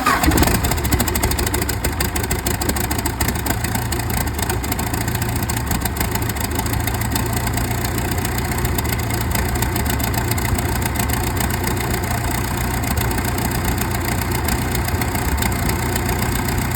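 A Case 90XT tractor diesel fitted with a new turbo cranks and fires, then settles into a steady, loud idle that runs on unbroken close to the listener.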